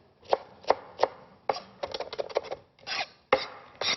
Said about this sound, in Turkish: çorbanın üzerine serpeceğim naneleri